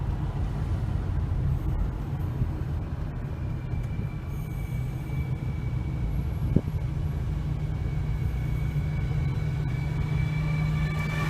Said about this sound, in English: One of those sightseeing trolley trucks.